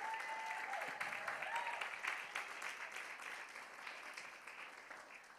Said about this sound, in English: Clap your hands for her today.